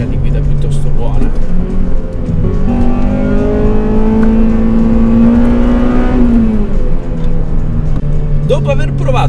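A Honda Civic Type R FN2 with its naturally aspirated VTEC engine revs hard, the pitch climbing steadily to a high wail and then dropping away, loud and close, with a second rev starting near the end.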